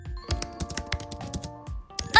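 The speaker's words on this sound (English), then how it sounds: "I think he's typing something out in chat." Rapid, irregular clatter of computer keyboard keys being typed on, close and fairly loud, with short pauses between bursts and a faint tinkle near the end.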